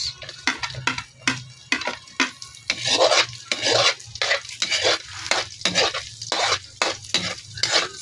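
Onions sautéing with garlic in a pan for adobong atay (liver adobo), with repeated stirring scrapes and clinks of a utensil against the pan over a steady sizzle, close and fairly loud.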